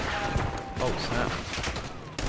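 Burst of gunfire from the online shooter game Call of Duty Black Ops 6, quick shots rattling over game effects at moderate volume, with a voice talking during the action.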